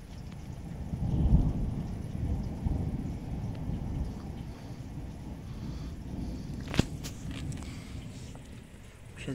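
A summer evening thunderstorm over Chełm in the Lublin region of Poland: deep, rolling thunder swells early and slowly fades, a sharp crack comes later, and soft rain patters throughout.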